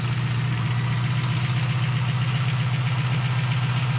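A cold V8 engine in a VE SS Ute idles steadily at close range, a low rhythmic rumble carrying a light ticking clatter from the valve train.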